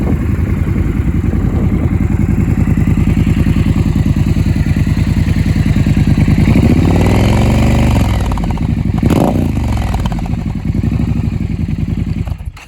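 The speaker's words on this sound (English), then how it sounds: "So you do have to squeeze the clutch in to start it." 2019 Triumph Scrambler 1200 XE engine running loud and close, a steady throbbing twin-cylinder rumble that swells briefly with a rev, then settles and cuts off at the end, no talk.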